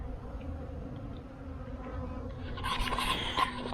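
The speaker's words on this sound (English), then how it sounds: "the bees seem to like it here." Bees buzzing around nasturtium flowers, a steady close hum that grows louder and denser toward the end, with no voices.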